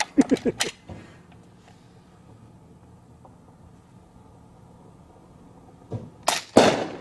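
A quick burst of sharp cracks from a Kral Puncher Armour .22 (5.5mm) bullpup PCP air rifle opens the clip, followed by quiet, then a few more loud shots and target impacts at the end.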